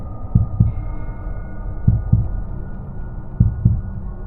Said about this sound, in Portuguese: a batida do meu coração reverberava em meus ouvidos